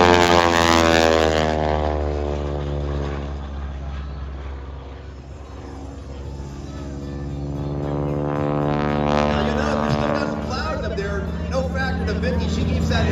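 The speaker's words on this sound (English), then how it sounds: "The propeller is spinning so fast, the propeller tips go supersonic" A 450 horsepower Boeing Stearman biplane performs aerobatics at an air show, its propeller tips going supersonic in a loud, steady engine drone with a rasping prop buzz that swells and fades, heard from the grandstand.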